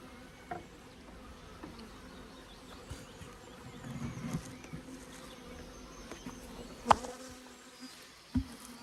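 A steady low honeybee buzz hums throughout, with a few sharp knocks and clicks breaking through, the loudest near the end, as bees are moved between hive frames.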